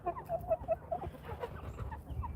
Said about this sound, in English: If you guys want to see the younger chickens, I'll go stick them on camera for you.